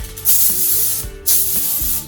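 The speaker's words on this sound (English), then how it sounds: "Give it a spray so everything doesn't stick to it." Two long hissing bursts of cooking spray, close and steady, separated by a brief pause.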